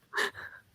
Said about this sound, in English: He's just fucking snoring.